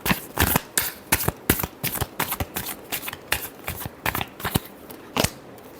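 Tarot cards being shuffled up close: a rapid run of crisp riffling snaps and flutters in quick bursts, with no talking.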